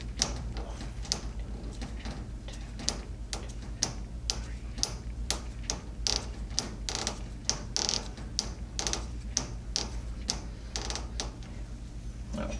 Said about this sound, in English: we will open up the needle valve